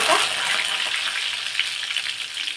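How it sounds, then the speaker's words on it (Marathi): Garlic and coriander leaves frying in hot oil as a tempering for a tomato curry, a steady, close sizzle that keeps an even hiss throughout. "आता इथे लसूण आपला मस्त फ्राय झाला आहे तेलामध्ये"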